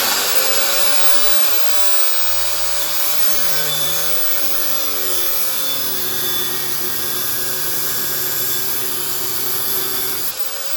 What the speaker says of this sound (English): Angle grinder. Near a petrol tank. Trying to cut this off.